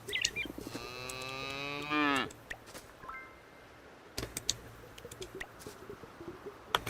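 A cow in the farming game Moonlight Peaks gives one drawn-out, rising moo, loud and clear, followed by scattered game clicks and ticks with light background hum.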